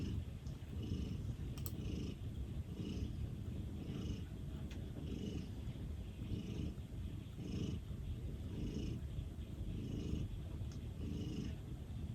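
A house cat purrs close up in a quiet sewing room, a steady rhythmic rumble pulsing with each breath for several seconds, nobody speaking over it.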